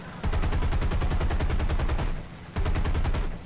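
Aircraft machine guns fire in War Thunder, two loud bursts of rapid, evenly spaced shots separated by a short pause, with no talking over them.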